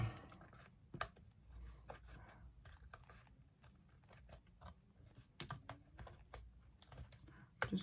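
Scissors snip along a slight paper overhang on a handmade expandable accordion ephemera holder, giving quiet, crisp, irregular clicks and cuts close by with no talking.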